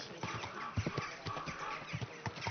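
Horse hooves clip-clop in a steady walking rhythm at a medieval-style market, close and fairly loud over a busy background murmur.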